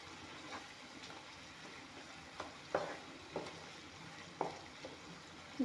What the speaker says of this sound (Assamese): এতিয়া অলপমান উতল আহিব দিম।